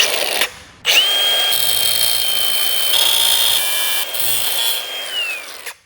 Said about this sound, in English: take a small drill bit and go right down the center and slowly open it up